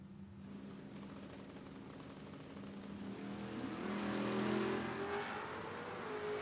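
Drag racing cars, a Mopar and a Chevrolet, thunder down the strip at a door wars event, a steady engine roar that swells toward the middle with a rising whine, heard from a distance.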